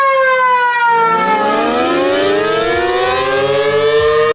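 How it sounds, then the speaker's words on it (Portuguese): A loud civil-defense style siren in a video game wails continuously, its pitch sweeping and gliding, layered tones rising and falling, sustained without talk. "Que sirene doida que é essa aqui?"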